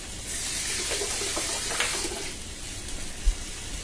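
Tap water runs steadily into a sink while a radish is rinsed beneath it, a soft continuous splash with a few brief rubbing and clunking touches, fairly quiet and close.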